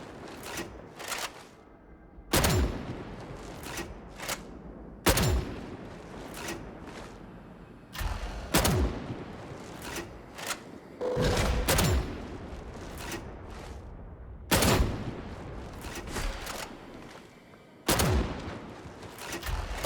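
Shotgun blasts fire in Warhammer 40000 Darktide, a dozen or so sharp booming reports spaced irregularly a second or two apart, loud and close over a quiet game background.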